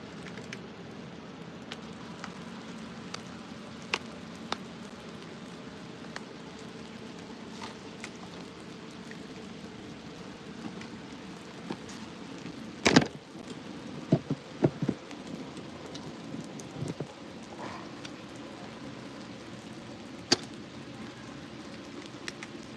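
Rain falling outdoors beside the Wisconsin River during a fishing outing, a steady soft patter with occasional louder drops and ticks, no talking.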